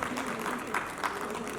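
An audience at a school workshop event applauds in a steady, broad wash of clapping that holds at an even level throughout, with some voices mixed underneath.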